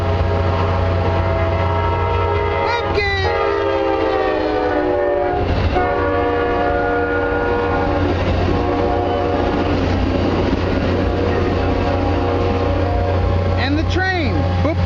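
A train rolls past close by during an outdoor barbecue competition in Ponchatoula, Louisiana, with a loud steady rumble throughout and a long blaring horn that sounds twice, voices mixing in underneath.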